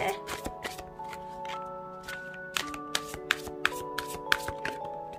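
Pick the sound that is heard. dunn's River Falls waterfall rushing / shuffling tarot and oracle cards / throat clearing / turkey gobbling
shuffling tarot and oracle cards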